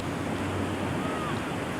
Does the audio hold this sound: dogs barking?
no